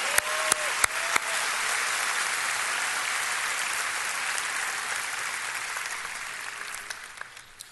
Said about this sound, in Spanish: Un aplauso. Feliz cumpleaños.